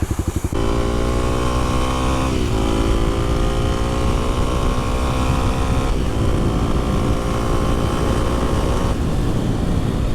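Kawasaki KLX300SM motorcycle being ridden, its single-cylinder engine droning loud and close with steady harmonics, revs dipping and climbing through gear changes over rushing wind.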